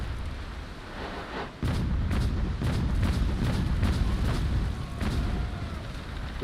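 Ship cannon fire and explosions in the naval combat game World of Sea Battle: a dense, continuous rumble of booming blasts with sharp repeated bursts layered over steady low roar.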